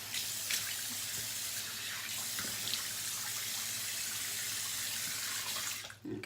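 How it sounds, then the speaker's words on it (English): Water runs from a tap into a bathroom sink and is splashed onto a face, a steady close rush of flowing water throughout, ending with a short gurgle and splash. "let me just splash my face"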